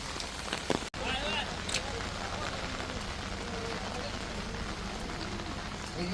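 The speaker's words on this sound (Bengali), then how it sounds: "বৃষ্টি পড়ছে বলে আমরা এই বাইরেটা যেতে পারছি না" Monsoon rain falls steadily in the Sundarbans, a dense, even patter on surfaces with a single sharp knock near the start and no clear voices.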